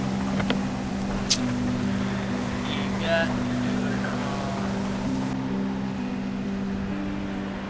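A vehicle engine in the snowbound survival game Project Zomboid runs with a steady low hum through a freezing blizzard, while a person talks over it.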